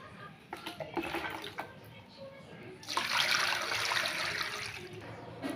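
Water is poured over grated potato to rinse it, first as a few splashy gurgles and then as a fuller, steady rushing pour in the second half, close by and moderately loud.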